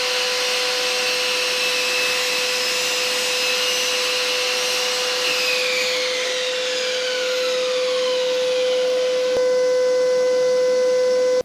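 Mitre saw cutting skirting board at an angle, a loud sustained high whine with a steady tone as the blade runs through the timber, close up and without talk.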